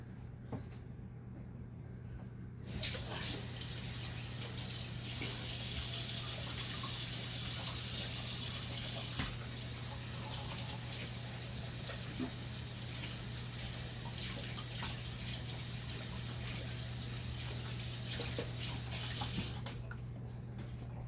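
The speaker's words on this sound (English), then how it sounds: "Let me wash my hands for a second." Tap water runs steadily into a sink while hands are washed in a home kitchen. The flow starts after a short quiet moment, continues as a constant gushing stream and stops near the end.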